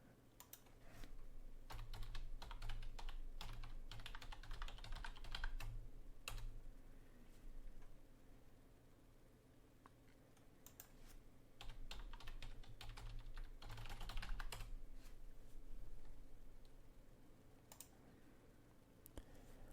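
Continuous typing on a computer keyboard while logging in to a newly installed VMware ESXi server, with steady close-up key clicks in bursts, briefly pausing near the middle before resuming.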